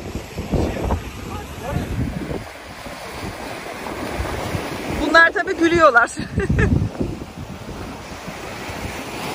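A rough, choppy sea surges onto the shore in a steady broadband roar, with wind buffeting the microphone throughout. Voices talk close by in the middle.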